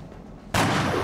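A single loud gunshot in the XCOM video game bursts in abruptly after a quiet lull, with sustained blast noise trailing on afterward.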